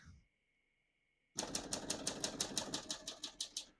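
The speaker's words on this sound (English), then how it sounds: "I'm going to finish typing, and then I'll show you the red trick" A 1941 Corona Standard vintage portable typewriter types a rapid, steady run of crisp key strikes close by, starting abruptly after a brief tone and a quiet pause.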